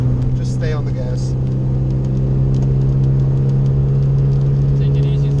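A car engine holds full throttle on a wet race track, a loud, steady droning roar with a strong sustained hum, close and constant throughout, while someone briefly talks over it early on.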